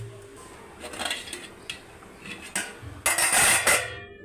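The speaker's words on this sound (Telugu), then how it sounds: "ఇప్పుడు ఒకసారి గడ్డితో తిప్పుదాం" A ladle scrapes and clinks against a metal pot while sambar with tamarind, turmeric and chili powder is stirred; irregular knocks grow louder toward the end, with no talking.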